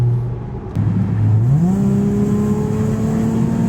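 Supercharged Lexus IS 350 accelerating at half throttle on a Pennsylvania turnpike, engine note rising steadily in pitch as it pulls, loud and close from inside the car with a constant road hum beneath.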